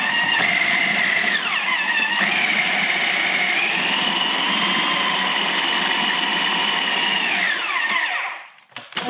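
A food processor blitzes a Thai chicken patty mixture of chicken, salt and black pepper with a loud steady whine, its pitch dipping and rising under load before the motor cuts off abruptly.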